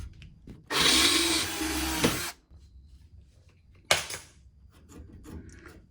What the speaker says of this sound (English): we're going to drill in here